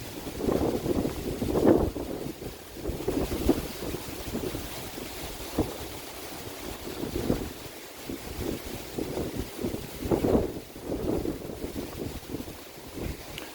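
Wind blowing outdoors on a walk, a low rushing buffet on the microphone that swells in irregular gusts, fairly soft, with no voices.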